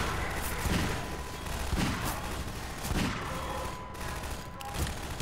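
Gunfire in the first-person shooter Half-Life 2, with dense rapid bursts of shots and booming impacts over continuous loud game action.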